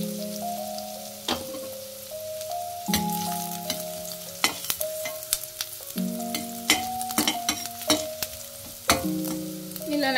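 Onions frying lightly in a pan for South Indian curry leaf rice, giving a soft, steady sizzle with scattered crackles and occasional stirring taps, fairly quiet and close.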